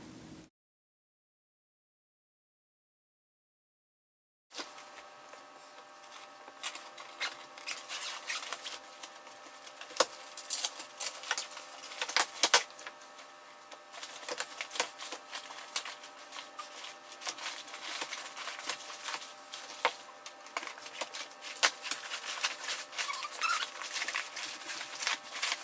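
A lightweight foldable pet bed being folded up, giving a long run of close, soft rustling and crinkling fabric with irregular patters and shuffles after a brief silence at the start.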